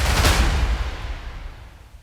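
A long percussion roll from the Keep Forest Kontakt library, a boomy low-heavy impact that swells at the start and then rumbles and decays over about two seconds, played alone.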